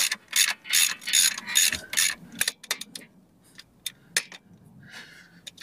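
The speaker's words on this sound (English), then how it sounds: "So we'll just tighten them up for now." A ratchet nips up the dual mass flywheel bolts on an Iveco Daily during a clutch replacement, giving loud, close bursts of rapid clicking, then shorter separate clicks and a few quieter ones, with no speech.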